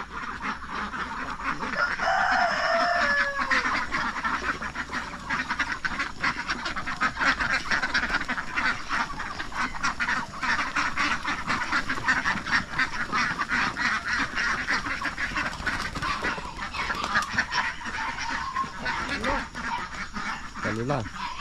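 A flock of ducks quacks continuously and loudly at close range outdoors, honking and squawking calls overlapping throughout, while people talk over them.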